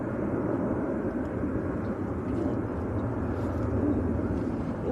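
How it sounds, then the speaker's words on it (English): A C-130 Hercules flying very high above the clouds over an airfield near Manchester Airport, heard as a continuous distant low engine drone. "there's a C-130 Hercules going over the field at the moment"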